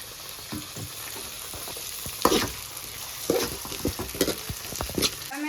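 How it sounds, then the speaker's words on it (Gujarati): Tomatoes and potatoes tipped into a pan of frying onions for a Gujarati kantola (spiny gourd) curry, giving a steady close sizzle with a few louder bursts and stirring clatters, no voices. "હવે નાખી દઈએ આપણે ટમેટા."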